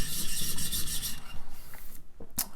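A chisel being sharpened on a sharpening stone: steady rhythmic rasping strokes of steel rubbing across the abrasive face, close and fairly loud, continuing back and forth before a brief pause and a final scrape.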